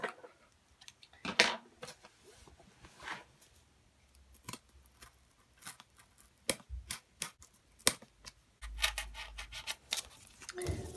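Scissors cutting out a traced shape from cardboard, close and fairly quiet, with irregular crisp snips and crunches spread across the whole stretch and brief rustling between cuts.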